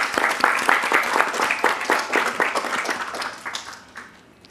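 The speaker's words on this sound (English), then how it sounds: "give those guys all a quick round of applause to say well done" Audience applause at a keynote speech: steady, dense clapping from a large crowd, loud and sustained before tapering off toward the end, with no talk over it.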